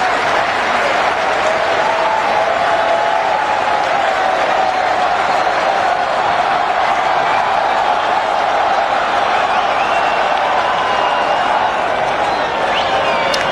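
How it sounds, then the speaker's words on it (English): A large cricket crowd applauds and cheers in a steady, dense roar of clapping that holds loudly throughout with no breaks. "the crowd are getting into it"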